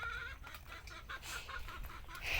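Chickens cluck repeatedly close by, a busy run of short calls with outdoor background noise and no talking.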